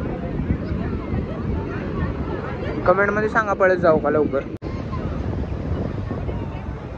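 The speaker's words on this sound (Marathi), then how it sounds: "अरे बापरे लाट आलेला आहे जोरामध्ये." Strong ocean waves surge at a crowded beach, a steady roaring wash under gusting wind against the microphone, while people talk and shout nearby.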